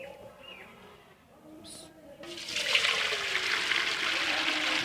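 Water pours into a cooking pot set on a stove for boiling rice, a quiet start with a few faint chirps, then a loud steady splashing gush that continues to the end.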